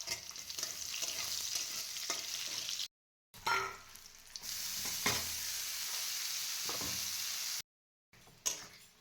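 Fenugreek leaves fry with onion in a pan, giving a steady close sizzle with stirring scrapes and clanks, broken by two short silent gaps; there is no talking.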